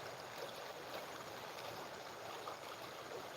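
The Udidang River flows past a village bank in the morning, a soft, steady wash of running water, faint and continuous.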